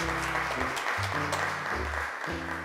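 An audience at a children's television show claps as a young child is welcomed to the microphone, brief steady applause under music.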